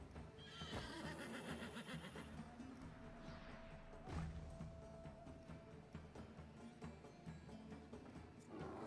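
A horse in the Wartales video game whinnies loudly near the start, then clip-clop hoof steps and game ambience carry on steadily for several seconds with no talk.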